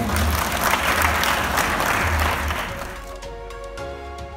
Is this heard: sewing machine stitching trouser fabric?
no